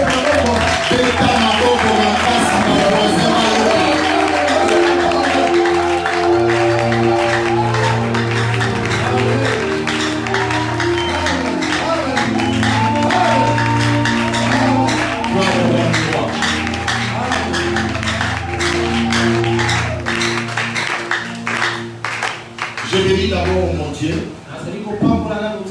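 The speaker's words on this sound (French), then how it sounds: "Est-ce qu'on peut applaudir?" At a weekly church assembly in Masina, the congregation claps in a rapid, steady pattern, mixed loudly with instruments and sustained voices that dominate the sound.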